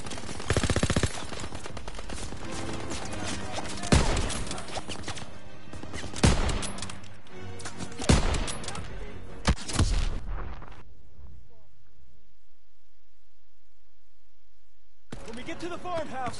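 Machine gun fire rattles from a hayloft in a WWII video game, long dense bursts with sharp individual shots, punctuated by heavier booms, as soldiers shout over the din, then a near-silent stretch before firing resumes.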